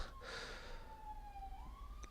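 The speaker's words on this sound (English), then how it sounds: "Got a siren going by." A siren passes outside, its wavering tone sliding steadily and then rising again over a couple of seconds, moderately loud against a broad background hiss with no talk.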